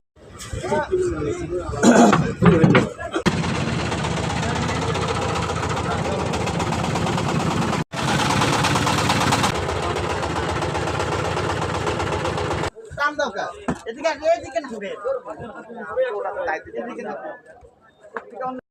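A rented trawler boat's engine runs steadily on a river trip near Sylhet, droning loudly and evenly for several seconds beneath people talking, then cuts off abruptly.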